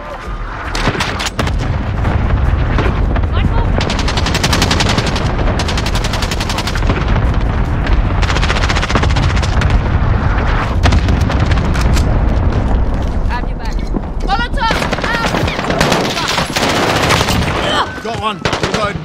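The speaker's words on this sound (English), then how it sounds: "Allied cluster strike inbound." Cluster strike explosions boom in Call of Duty: Modern Warfare (2019) online play, a loud, dense barrage of rapid blasts and gunfire that rolls on for nearly twenty seconds, with brief game voice lines mixed in.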